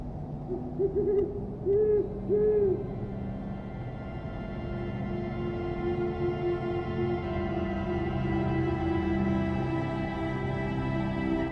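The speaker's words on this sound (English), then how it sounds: "The snowy owl, Buboscandiacus, is the ruler of the tundra skies" A snowy owl of the tundra hoots several times in quick succession early on, then a long steady tone carries on, clear and unaccompanied by any voices.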